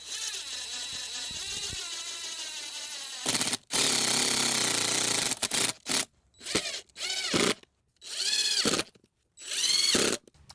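A power drill drives screws into metal hinges on a raised bed hoop house, starting with a steady hum and then breaking into loud, close bursts of whirring with short gaps between them, and no speech.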